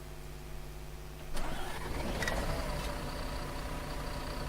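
Simulated MAN Lion's City A37 city bus in Omsi 2, heard from outside as the diesel engine cranks and fires after a quiet moment, then settles into a steady mid-pitched idle rumble.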